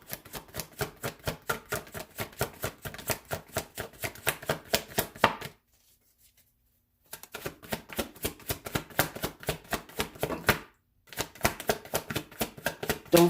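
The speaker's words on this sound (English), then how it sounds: "That's why I shuffle the cards like that, because I love to see this." Tarot cards are riffle-shuffled close up in rapid crisp bursts of fluttering clicks, two long runs separated by silent pauses and a third run starting near the end.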